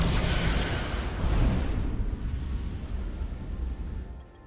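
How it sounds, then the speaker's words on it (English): Photon torpedoes fire in the video game Star Trek: Resurgence as a heavy, booming blast with a deep rumbling body that carries for several seconds before tapering off. "Fire photon torpedoes."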